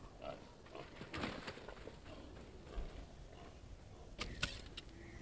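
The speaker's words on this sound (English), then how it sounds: "Bested by pigs. I mean, they're boar" Wild boars attack in the Ghost of Tsushima video game, with scattered grunts, scuffling hits and sharp thuds in short bursts, fairly quiet and with no talk.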